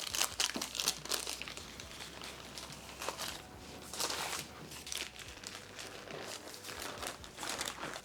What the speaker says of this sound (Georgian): ეს ქაღალდიც ფრთხილად მოვაცილოთ.